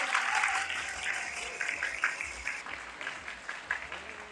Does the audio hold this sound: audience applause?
yes